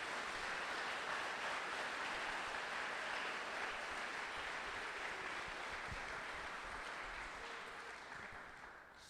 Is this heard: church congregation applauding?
yes